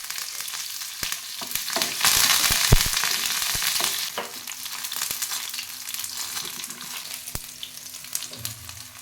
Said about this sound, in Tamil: இதுக்கும் சின்ன வெங்காயம் கருவேப்பிலை போட்டு தாளிச்சிக்கலாம்